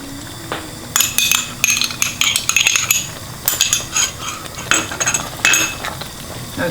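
A spoon stirs yogurt into a salmon and spinach pasta sauce in a pan, making close, irregular bursts of scraping and metallic clinks against the pan, with no talk.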